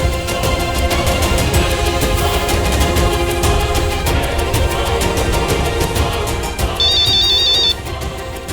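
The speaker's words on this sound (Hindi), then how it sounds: "फोन बज रहा है। मेरा फोन बज रहा है।" A mobile phone ringtone plays loudly and continuously, a repeating electronic melody filling the whole stretch with no talk over it.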